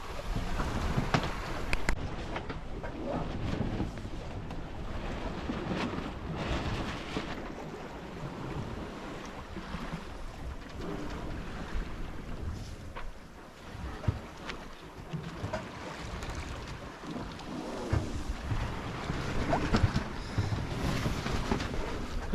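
A sailboat moves across the open Atlantic in light wind, with steady water rushing and slapping along the hull, gusty wind buffeting the microphone, and occasional creaks and knocks on board.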